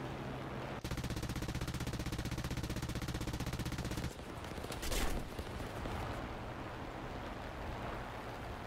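Rapid machine-gun fire from an enemy Japanese plane rattles in a dense, continuous burst for several seconds in a WWII flight combat game, then stops, leaving engine drone and a short whooshing pass.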